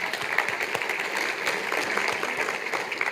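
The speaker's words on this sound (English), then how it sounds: "Let's give them applause." Audience applause at a State of the City event for the Arvada Chamber of Commerce, steady dense clapping throughout, moderately loud, with no talk over it.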